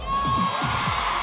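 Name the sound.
crowd of fans cheering at Insomnia convention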